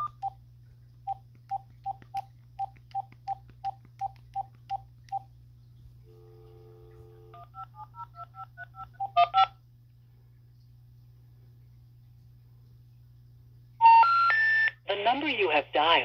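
Telephone keypad DTMF tones dial a number: about ten short evenly spaced beeps, then a steady tone and a quicker run of paired tones, followed by a burst of loud line noise, all over a low constant hum.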